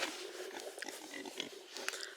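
Farm pigs grunting softly and snuffling in a pen, several short irregular grunts and squeals at close range, fairly quiet.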